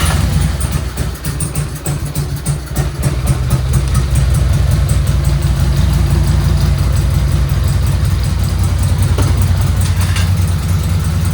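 A Harley-Davidson Road King motorcycle engine, one of two beat-up bikes being revived, runs at a loud, steady idle close by, its low, uneven thumping loping along without pause.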